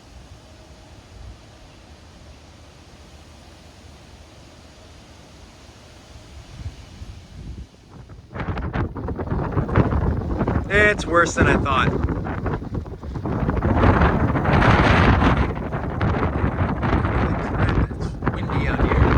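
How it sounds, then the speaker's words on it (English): Strong gusting wind during a thunderstorm with lightning, roaring and buffeting hard against the microphone from a rooftop, swelling sharply after a quieter start while someone talks over it. "It's windy out here. It's kicking up dust."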